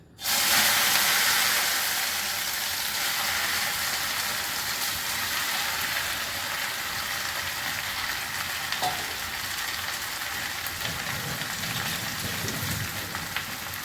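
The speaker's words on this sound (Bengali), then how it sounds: "তেল গরম হয়ে গেছে, এবার আমি মাখা ভেন্ডিগুলো ছেড়ে দিচ্ছি।" Hand-mixed okra frying in hot oil in a home kitchen gives a steady, close sizzle that hisses continuously with a faint crackle throughout.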